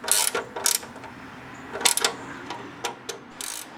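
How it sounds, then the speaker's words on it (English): A 9/16 ratchet clicks in short, sharp bursts while tightening the oil drain plug on a C3 Corvette, several separate ratcheting runs spaced by brief pauses, close and fairly quiet. "I'm using a 9/16 ratchet to tighten down the oil drain plug."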